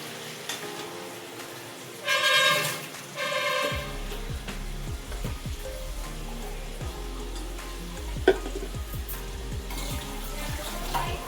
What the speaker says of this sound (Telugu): పన్నీర్ ముక్కలను అయితే ఈ విధంగా వేయించుకోవాలి.